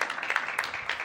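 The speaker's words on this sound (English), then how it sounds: "A little round of applause, perhaps." A conference audience applauds at a security forum panel on future warfare technology, brief scattered clapping with steady texture throughout, fairly close and moderately loud.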